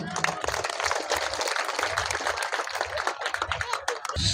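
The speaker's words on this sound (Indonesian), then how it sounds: "tepuk tangan untuk kita semua" Audience at a community gathering for a gubernatorial candidate clapping in scattered bursts of handclaps, fairly close, fading toward the end.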